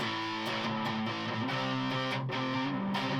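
Electric guitar with fuzz distortion through the neck humbucker pickup on a Telecaster-style body, played as sustained, thick chords and notes that ring continuously and loud, with no voices over it.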